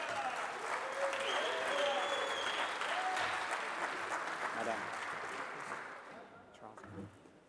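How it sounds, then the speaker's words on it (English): Audience applause at a chefs' general assembly, dense sustained clapping with a few voices calling out, gradually fading toward the end. "Give her a big round of applause, everybody."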